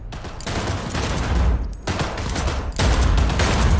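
Rapid sustained gunfire from a gun in Cyberpunk 2077, loud bursts of automatic shots in close succession with brief gaps between volleys.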